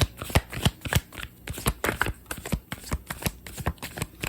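Tarot cards are shuffled by hand before a three-card draw, producing close, crisp riffling bursts and soft slaps in an uneven rhythm throughout.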